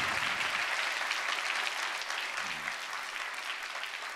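A church congregation in Irvine claps to welcome a missionary at a Sunday service: continuous, even applause from a large room, moderately distant and fairly soft, holding steady throughout without breaks.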